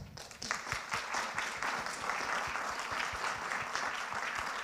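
Audience applause following a Steve Reich piano piece at a cultural event in Kaunas, a full, steady round of clapping from a sizeable crowd in a hall, sustained at even strength throughout.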